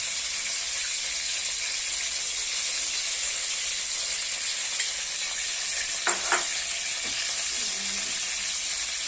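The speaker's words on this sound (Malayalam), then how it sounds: "കടായി ചൂടായി, നമുക്ക് നെയ്യ് ഒഴിക്കാം." Three tablespoons of ghee heating in a hot kadai for manjal masala, a steady bright sizzle running throughout with a couple of brief clinks near the end.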